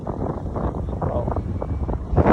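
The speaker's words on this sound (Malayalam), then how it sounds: "നല്ല കാറ്റുണ്ട് കേട്ടോ ഇന്ന് കണ്ടില്ലേ നല്ല കാറ്റ്" Strong wind buffets the microphone in a steady low roar, with gusts swelling louder near the end.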